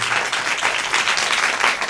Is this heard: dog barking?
no